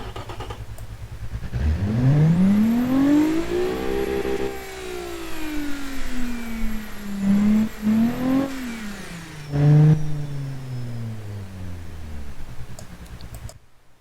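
A car engine in the BeamNG driving game fires up and revs, its pitch sweeping up, easing down, then surging again in a couple of loud bursts before settling to a steady drone; no talking.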